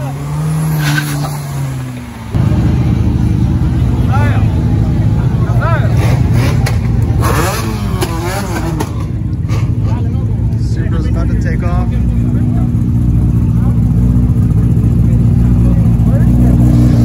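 Heavily modified import cars roar away from a Tokyo-style car meet, loud engines revving hard with squealing tires, close by and sustained, while onlookers talk.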